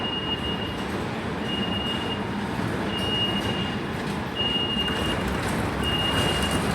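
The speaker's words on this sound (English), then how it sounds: "This is a Circle Line service." A London Underground Circle Line train rumbles steadily at Paddington station, with a loud continuous roar of wheels and motors and a high whine pulsing on and off above it.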